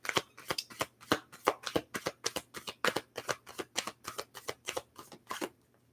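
A deck of oracle cards shuffled by hand in quick repeated riffles, close and crisp, about twenty evenly paced bursts before it stops, with no talking.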